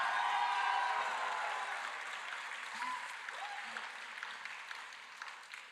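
An audience claps loudly for a Bharatanatyam dancer at his arangetram, dense applause starting strong then gradually thinning, with faint murmured voices near the end.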